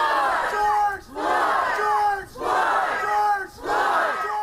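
A large crowd roars in rhythmic waves, four swelling chant-like surges of shouting voices, loud and close, with brief dips between each.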